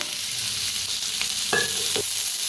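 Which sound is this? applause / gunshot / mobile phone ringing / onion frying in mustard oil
onion frying in mustard oil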